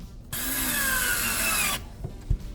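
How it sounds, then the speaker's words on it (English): A power driver whirs loudly for about a second and a half, sinking a fastener into GoBoard backer board over a stud, then winds down with a couple of soft knocks afterward. "put my first fastener like that"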